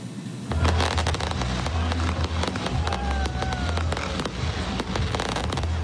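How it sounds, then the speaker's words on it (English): Fireworks at a festival in Saskatoon, a nighttime show choreographed to music, crackle and burst loudly in rapid irregular volleys over a steady low rumble, with a faint voice or two in the crowd. "The fireworks were choreographed to music each night to celebrate the Labor Day long weekend."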